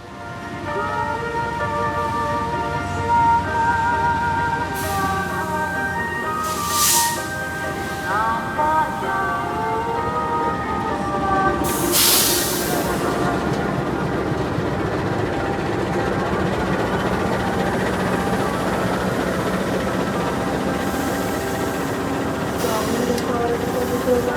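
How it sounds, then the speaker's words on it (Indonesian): Ranggajati train pulling into a busy station on track 3, a steady low rumble with sustained horn-like tones and brief hissing bursts of air, people talking throughout over the continuous noise. "dari sana kereta api Ranggajati masuk jalur 3"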